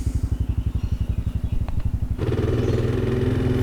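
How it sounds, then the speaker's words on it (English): A Kawasaki KLR 650 motorcycle being ridden on a rural road, its single-cylinder engine thumping in a fast, even rhythm up close, then rising into a steadier, harder drone as it accelerates. "The old KLR, she's running like a dream."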